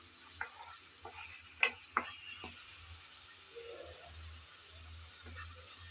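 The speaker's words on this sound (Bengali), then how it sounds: "আমি কিন্তু ভালোভাবে মশলা কষিয়ে নিলাম" Spice paste being sautéed and stirred in oil for a potato curry, a faint low sizzle with a few sharp spoon taps and scrapes early on, then quieter steady frying.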